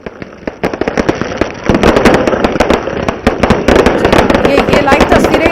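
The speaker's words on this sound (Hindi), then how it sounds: "देखिए आतिशबाजी हो रही है" Fireworks bursting at a Vijayadashami Ravan Dahan celebration in Raipur, a dense run of sharp cracks and pops growing louder and busier toward the end, with crowd noise beneath.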